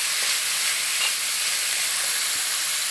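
Onions sizzle steadily in a pan for Kerala-style beef curry, a loud, even frying hiss that carries through the whole stretch with only faint stirring movement beneath it.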